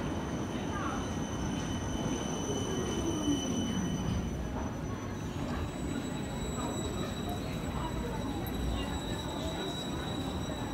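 A tram in Freiburg, Germany rolls past steadily on rails with a continuous rumble and faint wheel squeal, heard from a moderate distance with some voices.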